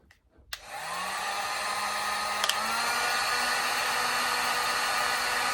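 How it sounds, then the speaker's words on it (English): A Harbor Freight heat gun switches on with a click and settles into a steady, loud blowing whoosh with a low motor hum, running continuously up close after a brief moment of handling noise. "I got this heat gun here, and you can get this from Harbor Freight"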